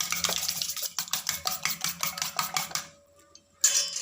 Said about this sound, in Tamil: உப்பு போட்டு நல்லா அடிச்சுக்கலாம்